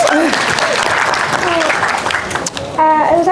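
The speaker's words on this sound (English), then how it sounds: "Give a clap." Audience clapping at a fan convention panel, brisk and fairly close, with voices talking over it and some cheering near the end.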